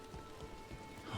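Rain pours steadily in a fantasy video game setting, Dragon Age: The Veilguard, a dense even hiss of drops hitting surfaces with a faint low rumble, constant throughout with no talk.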